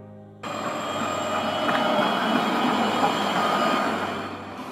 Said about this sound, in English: Tram train, a light rail train system used for passenger transportation within cities, capable of operating both on railway tracks and on roads.